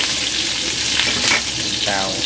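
Chopped onion chunks stir-fry in a hot pan with snake meat, giving a loud, steady sizzle with brief bursts of stirring and scraping throughout.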